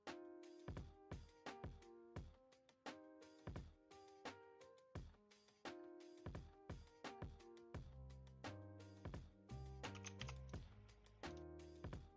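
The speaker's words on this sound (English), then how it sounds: "Sorry, my keyboard's stuck again. If you see me kind of like fumble with the keys" Fingers tap on a computer keyboard with stuck keys during digital illustration work, giving a run of distinct, close, fairly loud keystrokes in uneven bursts with no talking.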